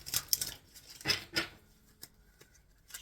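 Tarot cards are shuffled close up in short, crisp riffles and slaps, a few quick bursts in the first second and a half, then sparse light taps and card flicks.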